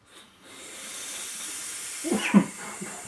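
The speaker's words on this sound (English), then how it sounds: "let's go ahead and vape it" A soft, breathy hiss of an apple pie flavored e-liquid being vaped, building into a long inhale followed by a few puffy exhale bursts near the end; quiet and close, with no talking.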